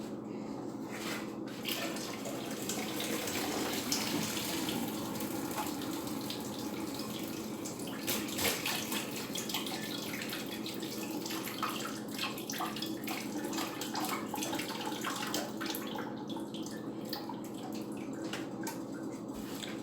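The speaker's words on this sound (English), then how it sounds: "I'm going to drain the water the dangerous way." Water poured off from a pot into a kitchen sink, the lid held tilted over the basin, a steady continuous rush and splash close by with no talk.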